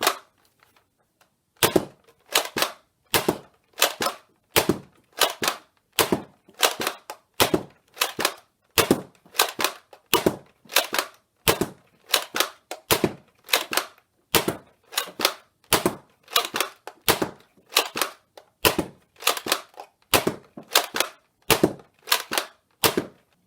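A Nerf Roundhouse blaster with a half-length Talon-mag conversion fires Adventure Force Pro darts in a long, loud, close series of sharp snapping shots, about thirty in a steady rhythm with short pauses, and no voices.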